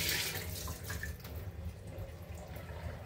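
Milky water used to wash homemade butter is poured out, a continuous close splashing pour that runs throughout with no talking.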